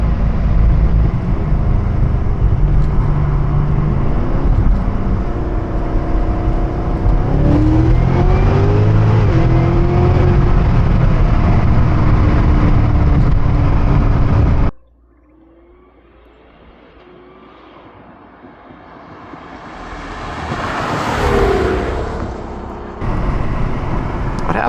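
A 640 hp Cadillac CTS-V accelerating flat out up a hill in drive, a loud, sustained engine roar climbing through the gears from inside the car, then a sudden cut to quieter sound and a rising rush as it builds again.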